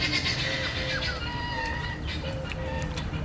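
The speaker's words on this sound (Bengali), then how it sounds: "ছাগলগুলো সব ডাকছে বাইরে" Goats bleat outdoors in a few drawn-out calls over a steady, noisy background, mixed with other scattered animal cries.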